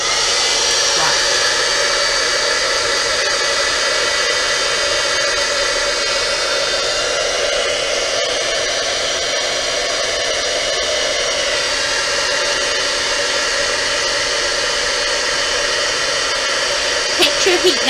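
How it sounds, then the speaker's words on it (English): Heat gun blowing a steady, loud, close whooshing roar as it melts metallic gold embossing powder, continuous from start to finish with little variation. "get your heat gun and then watch the magic happen"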